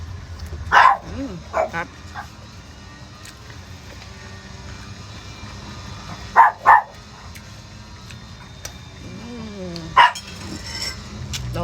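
Dogs barking at a Filipino home during a meal, with a few sharp barks and yips scattered at intervals, moderately near, over quiet background and brief talking.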